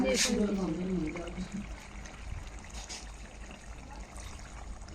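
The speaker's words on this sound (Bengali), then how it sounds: "পরিমাণ মতো পানি দিয়ে দিব।" Water is poured into a cooking pot holding washed moong dal and salt for a chicken skin curry, a steady trickling wash following a brief voice at the start.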